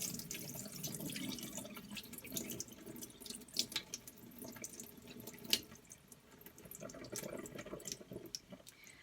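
Cloudy rinse water sloshes and pours steadily out of a bowl of washed basmati rice for several seconds, with a few sharper splashes and drips, close by and fairly quiet.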